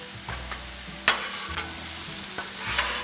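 Shrimp and steak sizzle steadily on a Blackstone griddle, with the close scrape and clack of a spatula stirring and flipping. A few sharper metallic clinks cut through the constant hiss, and no one speaks.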